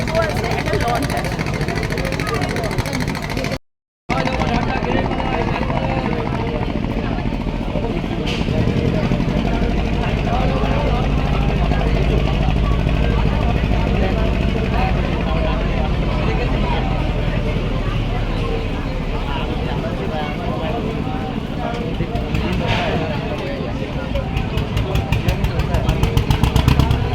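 Passenger launch engine on a river crossing toward Nabadwip, a steady loud low drone with water and hull noise throughout, briefly cut off near the start, while people talk over it.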